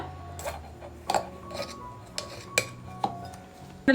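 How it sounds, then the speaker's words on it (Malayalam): A fork clinks against the inside of a steel glass while mixing chapati dough: about seven sharp, close metallic taps at irregular intervals, with quiet scraping between them. "ഇത് ഫോർക്ക് വെച്ചിട്ട് നമുക്ക് നല്ലോണം മാവ് കുഴച്ചെടുക്കാൻ പറ്റും"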